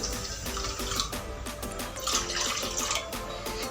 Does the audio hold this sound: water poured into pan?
yes